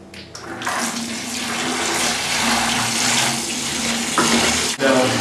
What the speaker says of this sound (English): now you need to fill this bucket up to the top with RO water.